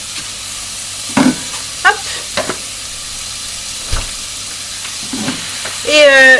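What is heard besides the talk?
onion and minced meat sizzling in a frying pan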